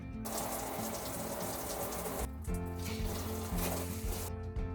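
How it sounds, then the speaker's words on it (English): Water runs steadily from a faucet with a rushing hiss, briefly cutting out mid-way before flowing again, alongside a low mechanical hum. "you want to run the water to ensure there's no water leak back here"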